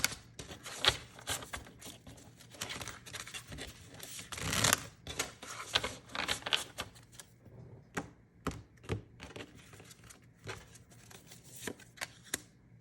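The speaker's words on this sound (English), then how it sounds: "you guys hear me shuffling" Tarot cards are shuffled up close in bursts of crisp riffling and slapping, with irregular pauses between rounds.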